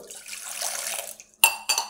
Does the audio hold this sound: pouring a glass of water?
yes